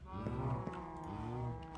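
A Minecraft cow moos in a steady, drawn-out low call that lasts nearly two seconds, close and clear with no talking over it.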